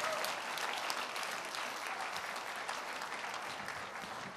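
Steady applause from a graduation ceremony audience, continuous dense clapping heard at a fairly distant, even level throughout with no talking.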